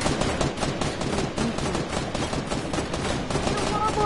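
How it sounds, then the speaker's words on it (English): Rapid gunfire in the military shooter game Squad, dense bursts of automatic shots cracking in quick succession over a noisy battlefield background, fairly near, with players talking over it. "someone just started shooting"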